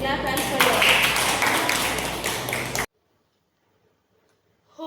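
A class claps hands together in a dense, loud burst lasting nearly three seconds, then breaks off into near silence, with voices mixed in.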